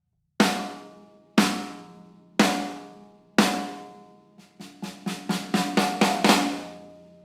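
A PDP Concept 14x6.5-inch steel snare drum with a thick shell and responsive snare wires, struck four times with single ringing hits, then a quicker run of rolled strokes, crisp and close with no talking.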